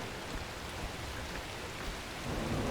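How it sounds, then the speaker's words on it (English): Steady rain pours in a thunderstorm in the video game The Last Caretaker, a dense hiss with low rolling thunder swelling near the end, no voices. "Oh, of course, a storm."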